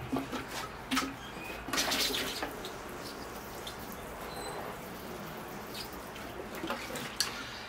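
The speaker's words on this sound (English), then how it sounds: "I will just give those root systems a bit of a water to keep them hydrated." Water is poured over the freshly pruned roots of field maple seedlings being readied for bonsai, a soft steady splash and trickle with a few drips and faint birdsong outdoors.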